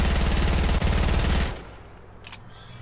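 A video game gun fires in a rapid automatic burst, loud and close for about a second and a half, then stops abruptly and leaves only faint background noise and a brief click.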